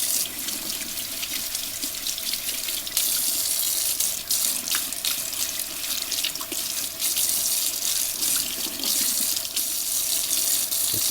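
Isopropyl alcohol sloshing and swishing inside the metal fount of a World War II military lantern as it is shaken and turned, a steady close liquid wash with no talk over it.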